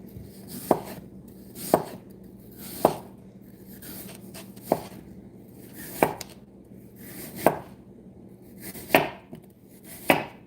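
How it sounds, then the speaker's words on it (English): A knife thinly slicing an apple on a cutting board, about eight sharp, evenly spaced cuts with steady low kitchen hum between them, close and clear with no talking. "Thinly slice the apple."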